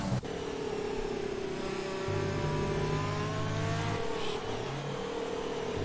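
Race car engines hum and whine steadily at the Red Bull Ring in Austria in a racing video game, with overlapping engine tones shifting pitch as cars accelerate, constant and close.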